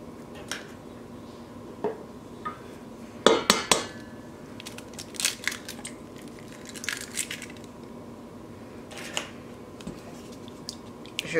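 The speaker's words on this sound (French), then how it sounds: "Je vais juste mélanger." Eggs beaten in a bowl for yogurt cake batter give quiet, irregular clinks and taps of utensil against the bowl, with one louder knock near the start, alone and without talk.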